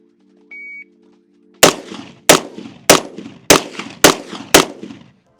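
Six heavy rifle shots fired in a competition-style shooting drill, loud, sharp and close, spaced about half a second apart, each with a short ringing tail, preceded by a brief electronic start beep.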